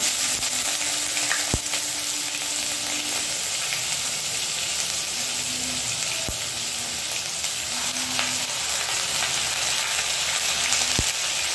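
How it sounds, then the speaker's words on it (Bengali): Onion, ginger and garlic paste frying in a pan with cloves and cinnamon, a steady close sizzle with intermittent scraping stirs and a few sharp spoon clicks against the pan, no talking. "এবার এটাকে খুব ভালোভাবে আমি কষিয়ে নেব।"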